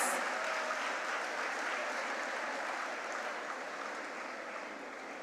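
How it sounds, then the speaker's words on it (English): Sustained applause for student award winners at a school ceremony, a broad, even wash of many hands clapping that holds steady and fades slightly toward the end. "Let's hear a resounding applause for our winners."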